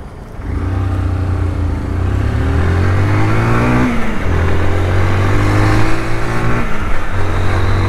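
A motorcycle engine idles and revs close by, a loud, steady throb with harmonic pitch rising and falling across several throttle blips, with no speech over it.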